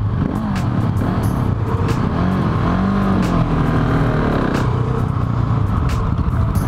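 A 2018 Husqvarna 701 Supermoto single-cylinder motorcycle is being ridden, its engine rising and falling through revs with a loud steady rumble close to the rider, overlaid by wind rush and intermittent clicks.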